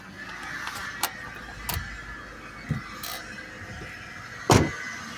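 A 1993 Honda Civic engine idles at a low, steady rumble with a faint irregular pulse, broken by several sharp clicks and knocks, the loudest near the end.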